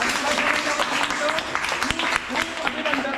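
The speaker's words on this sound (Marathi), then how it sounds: "जोरदार आपण टाळ्या वाजूया." Schoolchildren clap together at a school Dahi Handi event, a steady crowd of overlapping claps sustained for a few seconds with occasional voices mixed in.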